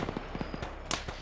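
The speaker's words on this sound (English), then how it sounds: "Follow the gunshots." A quick burst of sharp gunshots, several cracks in rapid succession with one louder blast near the end, fairly close.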